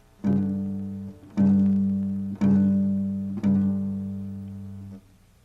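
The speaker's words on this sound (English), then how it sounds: "When you play fifths in the lower part of your instrument, it sounds like the way a bagpipe sounds." Four sustained guitar chords of low fifths, each struck and ringing about a second, with a droning, bagpipe-like buzz that slowly fades.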